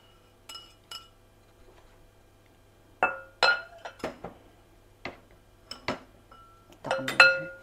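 Sharp clinks of a utensil against a glass bowl while mixing a cream cheese strawberry cake batter, scattered taps at first, then quicker irregular knocks, close and clear with no talking.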